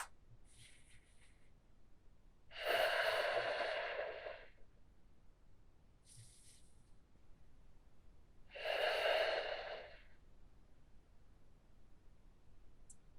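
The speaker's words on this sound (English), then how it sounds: "Breathing deep through the nose, focusing on the breath." Two slow, deep breaths through the nose during a yoga session, each lasting over a second and several seconds apart. They are close and soft in a quiet room.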